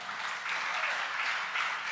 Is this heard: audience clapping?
yes